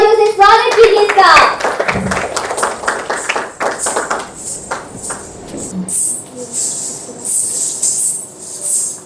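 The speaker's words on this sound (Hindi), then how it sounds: "जोरदार तालियों से स्वागत कीजिए इसका।" An audience at a dance competition finale claps loudly to welcome a dancer, with dense applause that continues steadily after an announcer's voice at the start.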